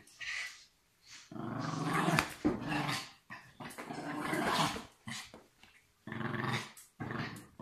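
A dog growls in close, rumbling bursts with short gaps between, snarling and grumbling in a mix of low and higher tones.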